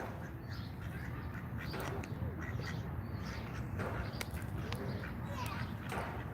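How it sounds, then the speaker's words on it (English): Ducks quack faintly at a reservoir, a large duck among several others, with scattered calls half-buried in steady wind and outdoor rumble. "We got a really big duck over here, and then some other ducks that are a little bit of noise"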